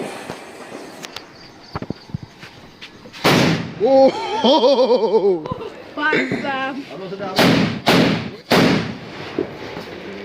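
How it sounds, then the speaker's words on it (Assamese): Gaach bomb tree-bomb firecrackers go off during Diwali celebrations, several sharp bursts rising over excited shouting, chatter and laughter from people standing close by. "এতিয়া আমি গাছ বোমা লগাম"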